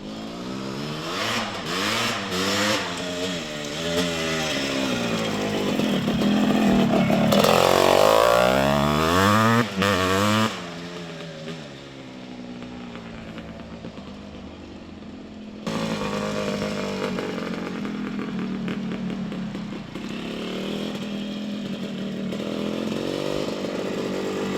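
A 1978 Honda CR250 Elsinore Red Rocket two-stroke motocross bike engine runs loud and close. It revs up and down in rising and falling sweeps, settles into a steady buzzing idle, then climbs to a higher continuous drone.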